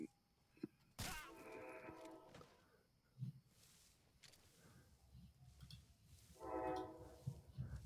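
A train passes outside a house and sounds its horn in two long blasts separated by several seconds, over a low rumble and occasional thunks.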